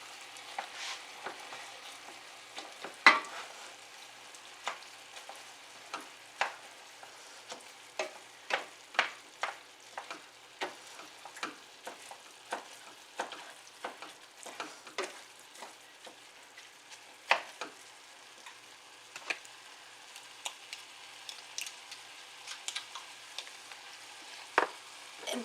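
Quiet, steady sizzle of food cooking in a pan, dotted with frequent sharp crackles and pops scattered irregularly over a soft hiss, close by and without talk.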